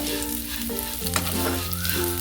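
Vermicelli is lightly roasted in a pan for semiya kesari, giving a soft, continuous sizzle with occasional stirring scrapes, all under steady background music.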